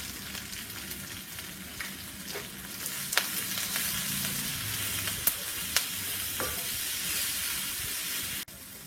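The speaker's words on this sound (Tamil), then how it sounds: "அதுக்கப்புறம் இந்த கருவேப்பிலை, பச்சை மிளகா, வெங்காயம் எல்லாத்தையும் போட்டுருவோம். நல்லா வதங்கட்டும்." Curry leaves, green chilies and onion sauté in a hot pan, giving a steady close sizzle and hiss with occasional sharp clicks and scrapes of stirring, then cutting off abruptly near the end.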